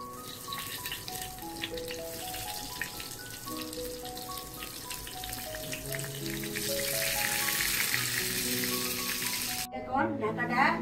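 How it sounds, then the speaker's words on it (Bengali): Eggplant slices go into hot mustard oil and sizzle steadily, the frying hiss growing louder and busier over several seconds, with a clatter of utensils near the end and no talk. "তেল গরম হয়ে গেছে, এখন আমি বেগুন ভাজাটা দিয়ে দিচ্ছি।"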